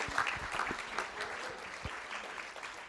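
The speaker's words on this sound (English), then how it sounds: "let's give these students a round of applause" An audience at a Boerne ISD school board meeting applauds students receiving President's Volunteer Service Awards, a continuous room-filling patter of many hands with a few louder individual claps.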